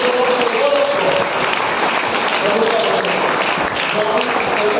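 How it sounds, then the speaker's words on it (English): A church congregation claps during a Friday service: a dense, continuous wash of clapping that lasts the whole stretch, with a voice carrying over it. "Give a mighty clap to the Lord for the word of God."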